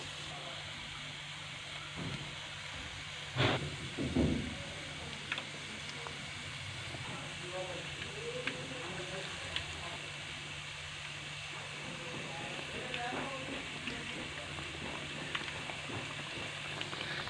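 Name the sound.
gram flour coated potato slices frying in hot ghee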